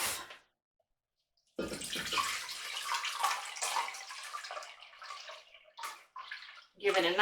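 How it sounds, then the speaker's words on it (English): Running water from a tap splashes over salted cabbage in a strainer for kimchi, a steady rushing spray after a brief pause, fairly close and moderately loud, with some quieter gurgles and splashes near the end. "I'm going to put the cabbage in this strainer and I'm going to rinse it to get all of that salt off."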